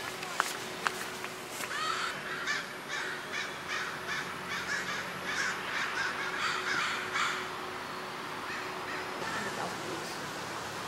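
Adult bald eagles call near the water by a nest in Vancouver: a run of repeated high, thin calls, distant and moderate in level, over steady outdoor background noise. No one speaks.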